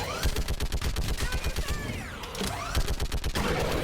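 Rapid automatic gunfire in Mass Effect 3 Legendary Edition, loud and close, steady bursts of shots with short gaps between, sweeping sci-fi weapon tones and a brief dip in the firing midway.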